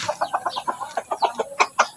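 A native chicken rooster clucks in a rapid series of short, rhythmic calls, about a dozen in two seconds, close and clear.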